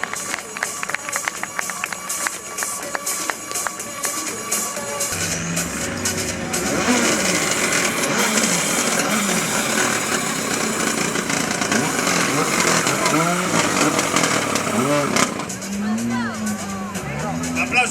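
A rally car engine revving and pulling away from the start ceremony at the 2018 A Coruña rally, loud and sustained, rising in pitch as it accelerates, with crowd noise and voices around it.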